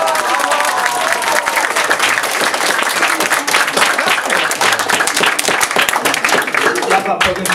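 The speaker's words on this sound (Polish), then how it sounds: "Dajcie brawo dla tych policjantów." Sustained, dense applause from an audience at a school nativity play fills the hall for several seconds, steady and loud with a crowd murmur underneath.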